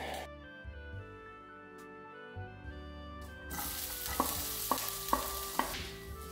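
Rice frying in a pan as vegetable broth is poured in, a broad hissing sizzle that swells after a quiet start, punctuated by several sharp clinks of a utensil stirring against the pan.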